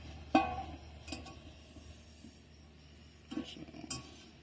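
Lids from a camping pot set clink and clatter against metal as they are lifted off and set aside, a few sharp light taps in a quiet space.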